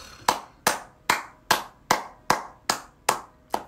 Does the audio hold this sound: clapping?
yes